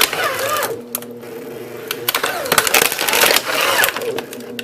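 A paper shredder motor chews through floppy diskettes and razor blades, giving a loud, continuous grinding whir broken by sharp cracks and crunching bursts, with no talk over it.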